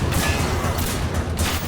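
Explosions in the shooter game Singularity roar in a dense, loud, continuous barrage of booms and blasts that fill the whole moment without any talking.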